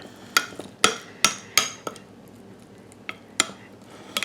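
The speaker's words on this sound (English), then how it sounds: "Just gonna stir that up." Spoon stirring blueberry mug cake batter with fresh berries inside a mug, a series of sharp clinks and taps against the ceramic, irregular and close, with short pauses between strokes.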